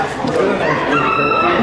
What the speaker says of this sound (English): Look at those chickens. They are lavender Orpingtons.